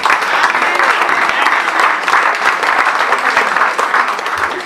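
Congregation applauding steadily at a religious wedding ceremony, dense sustained clapping throughout with voices mixed in.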